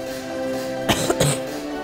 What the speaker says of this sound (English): Guys, I'm so sorry about the coughing.